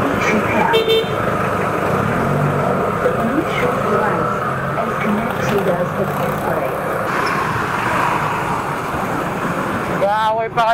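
Car horns honk repeatedly over steady road traffic on a wide city street near a roundabout with bike lanes, with motorcycles and engines droning throughout and someone talking over the din.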